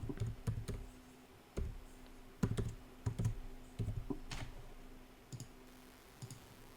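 Typing an equation into Desmos on a computer keyboard: close, quiet clusters of key clicks in irregular bursts with short pauses, over a faint steady hum, with no talk.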